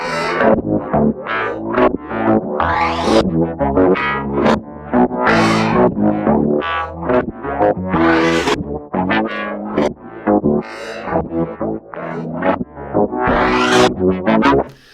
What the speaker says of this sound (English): I believe it does a little bit of like a distortion effect